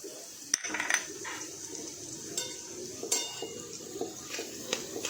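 A chili mixture goes into hot oil in a pan for homemade garlic sev mamra and gets stirred, with a steady low sizzle and frequent close clinks and scrapes of a spoon against the pan.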